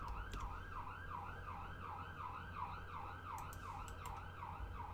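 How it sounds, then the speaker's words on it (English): A fire engine siren in the video game Cities: Skylines wails, sweeping up and down in a fast, regular cycle, fairly distant and steady, with a low rumble underneath. "That's a fire engine that time."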